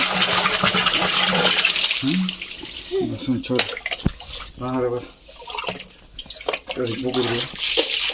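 A water tap runs in a steady rush at first, then breaks into splashing and dripping while people talk loudly over it.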